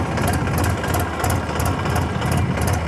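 Massey Ferguson 7250 tractor engine running loud and close, a steady throbbing diesel rumble with rhythmic pulsing but no clear rise in pitch, no speech.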